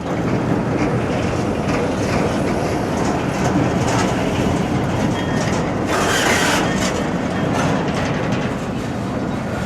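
A Union Pacific stack freight train rolls steadily past close by, a continuous loud rumble with rhythmic clickety-clack of wheels over rail joints and occasional metallic squeals.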